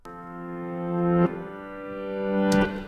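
Swelling reversed piano tones, run through a compressor and a space echo setting, rise gradually and cut off abruptly, twice, with a washy, echoing tail between the swells.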